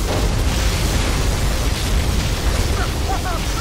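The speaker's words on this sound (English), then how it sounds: "Particle cannon activated." A particle cannon strike in Command & Conquer Generals Shockwave plays as a loud, sustained roaring explosion that fills the whole stretch, with crackling bursts and game voices mixed in.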